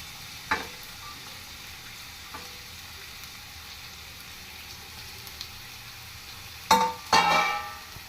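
Onions and green chillies frying in a pan for an Andhra chamadumpa dish, a soft steady sizzle with light stirring clatter and two louder bursts of frying near the end.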